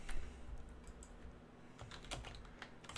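Keys clack on a Color Computer keyboard as a BASIC program is typed in, an irregular run of close, crisp keystrokes in small bursts with short pauses between them and no talking.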